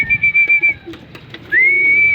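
Pigeons at feeding time in a loft, heard as clear, close high whistling tones with soft cooing and fluttering in between, no talking.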